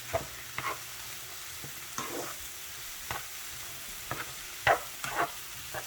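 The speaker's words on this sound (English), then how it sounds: "And then 1 large green pepper diced up. I'm going to let this cook down for a few minutes" Diced green pepper cooking down in a pan, a quiet steady sizzle broken by several soft stirring scrapes and light clicks of a spoon at irregular intervals.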